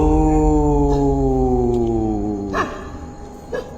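A dog lets out a long, drawn-out howl that slowly falls in pitch and fades, followed by a couple of short yips.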